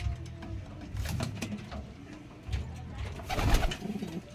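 Pigeons coo repeatedly in low, throaty phrases, close and fairly loud, over a busy background of rustling and flutter with no talking.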